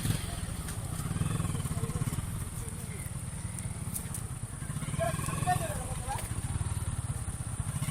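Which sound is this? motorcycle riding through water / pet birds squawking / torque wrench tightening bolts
motorcycle riding through water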